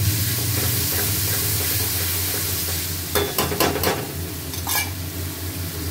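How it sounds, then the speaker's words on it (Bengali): Masala spices frying in oil, a steady dense sizzle that turns into a run of clattering scrapes and stirs against the pot partway through. "মশলা খুব ভালো করে কষা হয়েছে, দেখুন তেল বেরিয়েছে"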